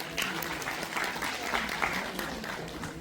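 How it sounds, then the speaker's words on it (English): Audience applause at the Udaan 3.0 film festival event, a steady wash of many hands clapping at moderate level for about three seconds, with faint voices mixed underneath. "I would request a huge round of applause from everyone."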